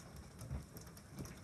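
Hail pelting a two-story house during a severe storm, heard from a second-floor room as a dense, steady patter with a few heavier thumps, fairly faint and continuous with no voices.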